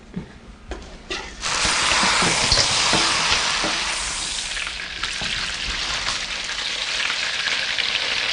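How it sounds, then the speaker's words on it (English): Prawns drop into very hot oil: a few soft clicks, then a loud, dense sizzle that bursts up and holds steadily, crackling close by without any talk. "Now we'll fry the prawns. The oil must be very hot."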